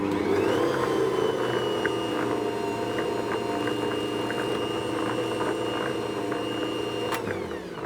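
Ankarsrum Assistent stand mixer creaming butter and sugar for a lemon Victoria sponge, a steady loud motor whir with rhythmic mechanical ticking that runs unbroken for several seconds before easing off near the end.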